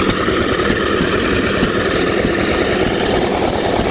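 An old antique gas engine idles at an antique tractor show, a loud continuous low rumble with a fast, even chug and no talk.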